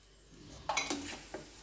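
Fried vermicelli semai and spices are mixed in a cooking pot: a soft background hiss, then a few quick metallic scrapes and clinks of a spoon against the pot.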